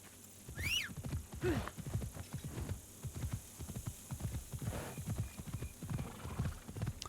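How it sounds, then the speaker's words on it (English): Horse in the video game Assassin's Creed Shadows, steady hoofbeat clip-clop with a couple of short whinnies, fairly quiet and continuous with no talk. "Hi, Horsey."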